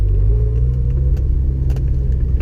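Honda S2000 sports car on a test drive, a loud, steady low engine and road rumble heard close up from inside the car.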